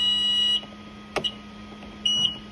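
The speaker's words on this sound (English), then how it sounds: "When you're in reverse, you'll hear a beep." Taski 2500 floor scrubber's reverse warning beeper, two short electronic tones separated by a pause, with the machine's hum running beneath.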